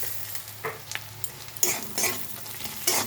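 Onions sizzle in a pan with salt and turmeric while a utensil stirs them, producing scraping bursts at irregular intervals over a steady, soft frying hiss.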